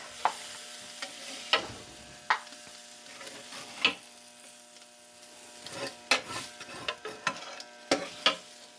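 Chicken cooks on a grill with faint crackling and scattered sharp clinks and scrapes as pieces are moved and lifted off, quiet and intermittent with no talking.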